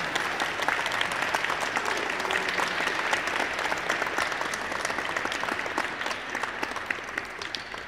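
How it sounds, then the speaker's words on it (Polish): Sustained applause from an audience at a school sports meeting with a visiting Olympic athlete, a dense, steady clatter of many hands that carries on evenly for several seconds with no talk. "Myślę, że wielkie brawa dla niego."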